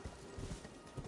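Horse hooves clip-clop at a steady walking pace across ground in a video game, quiet and continuous with no speech over them.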